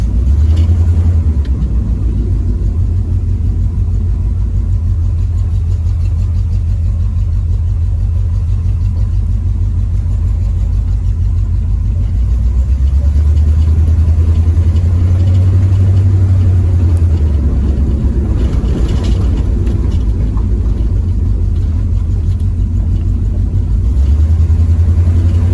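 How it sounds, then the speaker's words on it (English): A 1973 Pontiac Firebird engine runs steadily with a deep rumble, swelling as the throttle is opened partway, then easing back, recorded close with no talk. "You can hear it backfiring."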